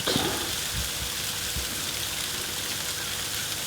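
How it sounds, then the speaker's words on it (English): Sleet falling outdoors, a dense, steady hiss and patter of ice pellets with a few sharper ticks near the start, continuous and alone. "This is sleet."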